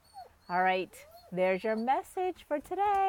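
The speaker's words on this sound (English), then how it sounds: "I'm sorry about the whining dog" A dog whines and whimpers in high, wavering cries close by, while a person talks over parts of it.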